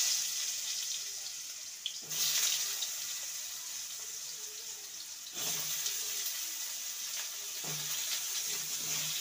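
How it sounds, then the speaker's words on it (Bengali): Running tap water splashing over cut potatoes as they are rinsed in a kitchen, a steady close stream with a few surges as the flow shifts. "ভালো করে জল দিয়ে ধুয়ে নিচ্ছি"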